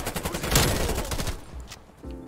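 Turret gunfire in Call of Duty: Black Ops Cold War, a dense rapid burst of automatic shots that tails off after about a second and a half, loud and close.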